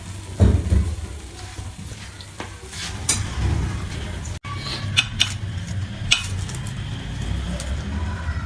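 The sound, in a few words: dishing out fried mutton chops from the pan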